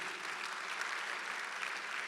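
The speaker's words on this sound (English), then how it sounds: "All that deserves a round of applause because it's not easy." An audience at a State of the City address applauding, a dense steady wash of many hands clapping, moderately distant and even throughout with no voices over it.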